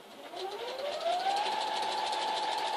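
A sewing machine free-motion quilting through newspaper gives a steady, close mechanical whir whose motor pitch climbs and then holds high as it speeds up, running alone without voices.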